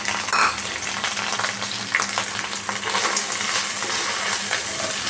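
Spices frying with potatoes in a pan, a dense continuous sizzle with light clinks and stirring scrapes, close and fairly loud.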